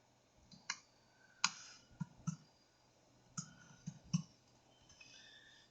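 Several sharp, quiet clicks sound close by, spaced irregularly as a computer mouse is clicked and a network key is typed, with no talk over them.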